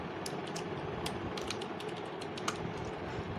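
Close, quick clicking of keys on a computer keyboard as a Python print command is typed into a Sublime text editor, an irregular patter of light taps with no talk.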